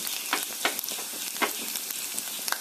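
Chopped garlic and ginger sizzle in hot oil for an okra masala, a steady bright frying hiss with a few sharper crackles and pops, close and alone with no voices.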